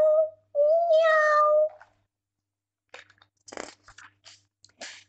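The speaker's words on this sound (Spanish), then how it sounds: "¡Oh! ¡Qué hermoso gato!" A storyteller voices a cat's meow during a Spanish-language children's story, with a long drawn-out meow followed by short crunching and clicking sounds after a pause.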